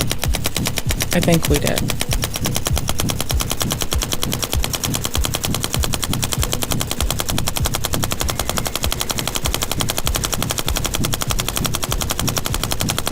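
A belt-fed machine gun fires one continuous string of rapid, evenly spaced, loud shots at a steady rhythm, with a brief spoken comment near the start.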